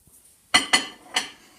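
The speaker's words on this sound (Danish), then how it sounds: "Nu har vi sat alle kopperne ind i mikroovnen" Cups clink into a microwave in three quick, close, sharp knocks after a brief faint tap, with near silence around them.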